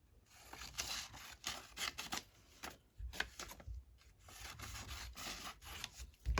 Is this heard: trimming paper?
yes